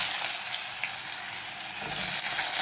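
Dried red chillies and black cumin seeds sizzle in hot oil as a tempering, giving a steady, moderately loud crackling hiss that swells slightly toward the end.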